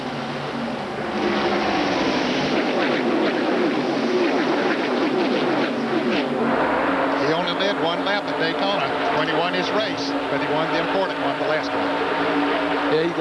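NASCAR Winston Cup stock cars race at Talladega Superspeedway in the 1994 DieHard 500, a loud, continuous engine roar with shifting pitch sweeps as the pack passes, under race commentary.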